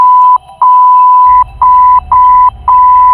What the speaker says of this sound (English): each being covered with a beep